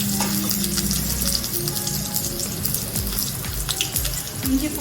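Onions sizzle in hot oil for rava upma, a dense, steady crackle close to the pan with occasional stirring scrapes and no talk.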